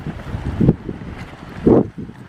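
Strong gusting wind buffets the microphone outdoors at a campsite, with a low broadband rumble and two loud surging gusts rising and falling, no talking.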